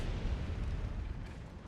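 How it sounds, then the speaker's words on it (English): A loud, low rumbling blast from a Company of Heroes 3 battle in a 2v2 match, a dense boom filling the whole moment with rolling low-end energy that fades slightly toward the end. "Decent explosion there."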